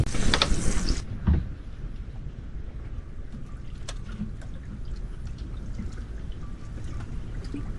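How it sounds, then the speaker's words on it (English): A green watering can sprinkles bright flowers at the edge of a floating bamboo raft house, a burst of pouring splash at the start, then a faint trickle over a steady water and outdoor ambience. "The man grabs a green watering can to care for his floating garden. He waters the bright flowers at the edge of the raft."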